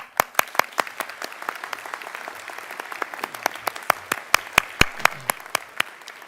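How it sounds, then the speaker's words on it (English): Audience at a university graduation ceremony claps in sustained applause, a dense patter of many hands with sharp individual claps standing out, steady and moderately loud throughout. "Please honour them with your applause."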